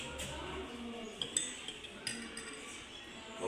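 A spoon stirring coffee in a glass gives a few light clinks over a steady room hum, with faint background voices.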